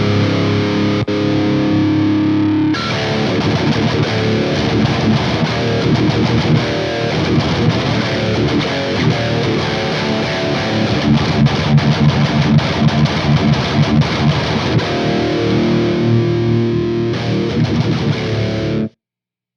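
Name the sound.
guitar played through Wizard MTL MK2 amp, distorted tone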